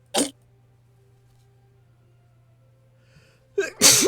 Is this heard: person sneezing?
yes